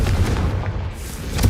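A Confringo blasting spell goes off in Hogwarts Legacy, with a short, loud booming burst at the start and another deep thump near the end.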